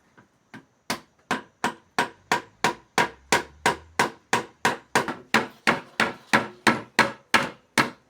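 Bamboo is struck repeatedly to split it along its long fibers, giving about twenty sharp, evenly spaced close knocks in a steady rhythm, each with a brief ringing decay.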